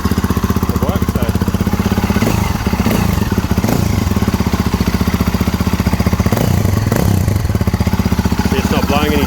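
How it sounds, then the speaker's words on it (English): A motorcycle with an aftermarket exhaust idles close by with a loud, steady, throbbing rumble and mechanical clatter, a few faint voices mixed in. "it sounds pretty good with the aftermarket exhaust on"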